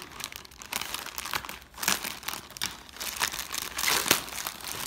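Packaging around an Intertool STORM ET-8046 tool set being unwrapped: continuous close crinkling and crumpling of plastic wrap with occasional tearing, loud and unbroken for about five seconds.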